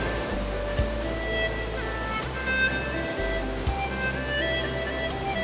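Mountain river rushing steadily beside a trekking trail, a continuous broadband water roar close by with no breaks, running alone without voices.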